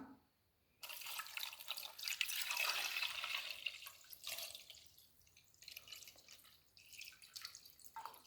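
Water is poured over chicken in a cooking pot, a soft splashing pour that starts suddenly and then trails off into faint trickles and drips, quiet and close.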